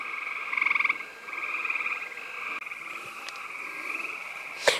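Leopard frogs call in a steady snoring croak, repeated trills and rattles overlapping in the background with no talking.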